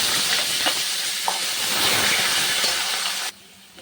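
Potatoes dropped into hot oil tempered with cumin, bay leaf and dried chili give a steady hissing sizzle with a few light clinks, then the sound abruptly drops to quiet near the end.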